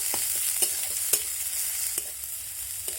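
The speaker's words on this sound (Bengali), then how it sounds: "পেঁয়াজটাকে দিয়ে নাড়াচাড়া করে ভেজে নেব" A large chopped onion fries and is stirred in a pan for a papaya-and-egg dish: a steady close sizzle runs throughout, broken by a few sharp spatula scrapes and clicks, with no talking.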